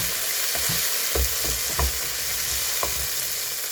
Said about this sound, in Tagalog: Lagay ko rin yung kamatis